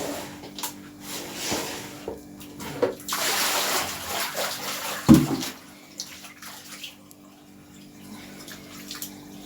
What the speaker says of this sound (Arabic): نغسل بقى الحوض.